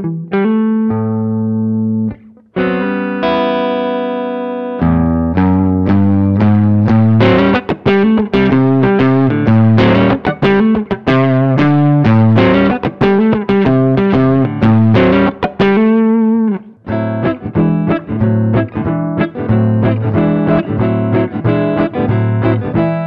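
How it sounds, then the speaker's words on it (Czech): A Godin A6 Ultra guitar played through a Vox combo with a slightly distorted tone, starting with single sustained chords and then moving into busy, dense picked runs. It stays loud and close throughout, with short gaps between phrases and no talking. "Máme tady kombo Vox, který veneme ven linkovým výstupem, má to takový trošku zkreslený zvuk."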